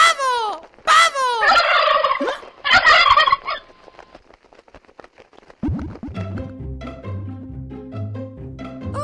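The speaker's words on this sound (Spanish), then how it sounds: "¡Pavo! ¡Pavo!" A turkey gobbles loudly and close in rapid rattling bursts, then falls quiet before a bright cartoonish musical jingle takes over.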